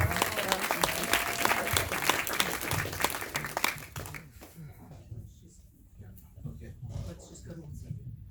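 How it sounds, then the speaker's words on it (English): Loud audience applause fills a festival premiere screening of the film Moonrise, a dense crowd clapping for about four seconds before easing into softer scattered clapping beneath voices talking. "We just want to give it a big round of applause."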